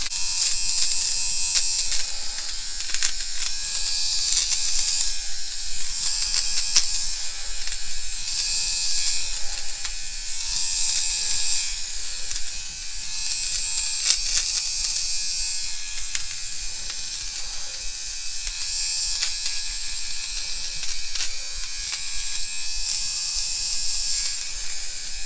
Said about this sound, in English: you can see that nose hair trimmer got up in there and did a great job